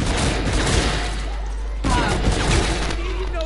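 Gunfire in a zombie shooter video game, dense rapid volleys of shots packed together across the whole stretch, loud, with a brief break and then more firing, under a low constant hum and some voices.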